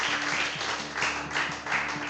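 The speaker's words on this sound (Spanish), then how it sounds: "Bendecirle con un fuerte aplauso a Dios si le estás creyendo." A church congregation applauds during a sermon, brief clapping that swells and dips in waves over a sustained low organ or keyboard tone underneath.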